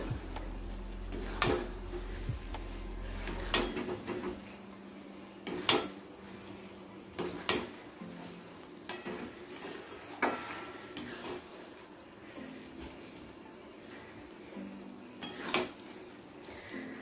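Ghee and sugar being stirred into pointed gourd in a pan, with a spoon clinking and scraping against the metal in scattered sharp knocks, close and fairly loud, with no talking.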